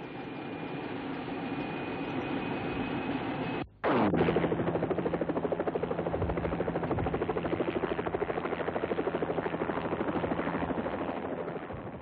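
A news helicopter's steady, loud rotor drone with a rapid rhythmic chop fills the whole stretch, briefly cutting out once before resuming at full strength.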